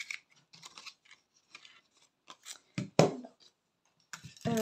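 Scissors snip through leftover scrapbooking paper scraps in a few close, crisp cuts with short pauses between them, the loudest snips near the end.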